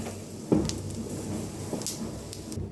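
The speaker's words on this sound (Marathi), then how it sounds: "तुम्हाला फटाकड्याचा आवाज ये लागला असेल तर बाहेर खूप सारे फटाकडे वाजवायला लागले" Scattered distant pops and muffled bangs sound outdoors against a steady background hiss: Diwali firecrackers going off in the neighbourhood.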